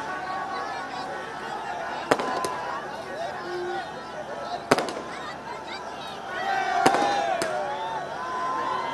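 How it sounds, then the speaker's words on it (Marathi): Fireworks bursting in celebration of India's ICC Champions Trophy final win over New Zealand, with sharp cracks near 2, 4.7 and 7 seconds over a steady crowd din and whistling rockets. "फटाक्यांची आतषबाजी करण्यात आली"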